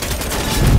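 Gunfire in a multiplayer video game shooter, a dense burst of rapid shots over a rooftop firefight, loud and close with a low boom building toward the end.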